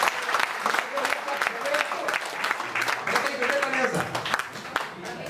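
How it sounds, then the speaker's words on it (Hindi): A crowd at a Hindi comedy poetry gathering (kavi sammelan) breaks into loud, sustained applause, a dense clapping wash heard up close with some voices mixed in. "अब आप एक बार जोरदार तालियां बजाइए"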